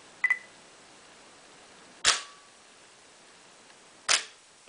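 A DSLR camera shutter fires for a two-second exposure: a quick double click with a beep, then two crisp shutter snaps about two seconds apart, each with a short decaying tail, in a quiet room.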